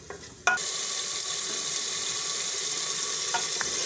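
Tomatoes drop into hot oil with a sudden burst of sizzling that settles into a steady, close frying hiss, with a couple of faint clinks of stirring later.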